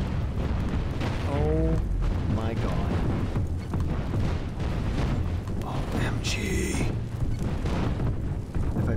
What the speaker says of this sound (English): Broadside cannons go.